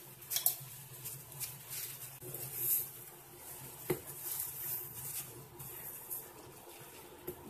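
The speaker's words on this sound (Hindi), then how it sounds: "तो इसमें डालेंगे अब चाय पत्ती।" Black tea simmers in a pot as tea leaves go in, giving soft bubbling and light, uneven patter with a faint sizzle, close and fairly quiet.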